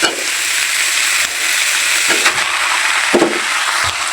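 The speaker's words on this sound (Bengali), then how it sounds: "আমি কিন্তু এই যে পাঁচটা আলু কিন্তু আমি ঢেলে দিয়েছি।" Potatoes fried in hot oil with winter vegetables, a loud close continuous sizzle with occasional sharp clatters and scrapes of a utensil against the pan.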